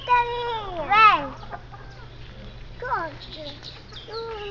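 Chickens and a rooster on a farm, with clear clucking and cackling calls near the start and again later, nearby and fairly loud, while a person calls to the birds.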